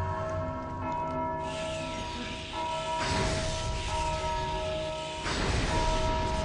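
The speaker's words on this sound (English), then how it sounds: "That undead rang the bell for me" A church bell in Dark Souls II, rung by an undead in the Undead Crypt, tolling with long ringing overtones and struck again about three and five seconds in, each strike loud and resonant.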